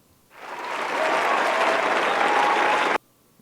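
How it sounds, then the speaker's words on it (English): Recorded crowd applause cuts in abruptly, swells to a thick, steady roar of many hands clapping, then stops dead after under three seconds, with no voices over it. "this is the time frame in which the clap should happen"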